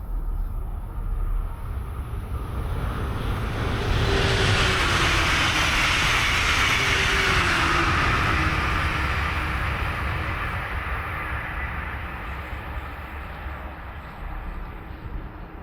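A Brightline passenger train in Brevard County passes with a loud, sustained rumble and rushing roar that swells around the middle and slowly eases off, with faint rail squeals above it.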